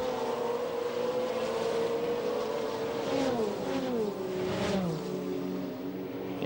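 Race cars at the 1995 Le Mans 24 Hours, among them a factory Venturi, a Ferrari F40 and a McLaren, roar past one after another, engine pitch dropping as each goes by, loud and sustained.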